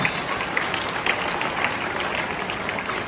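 Applause from an audience at a school Christmas celebration, a steady dense wash of many hands clapping throughout, fairly loud and even with no voices standing out.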